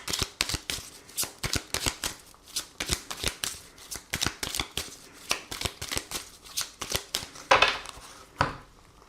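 Oracle cards being shuffled by hand for a tarot reading, a steady run of crisp riffling flicks close up, with one louder slap near the end.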